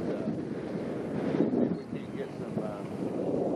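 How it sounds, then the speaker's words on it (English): Steady wind buffeting a microphone outdoors on a lake while bass fishing near docks, a constant low rumbling roar with choppy water under it, fairly loud throughout. "it's a little windy out here today, and the water's very active"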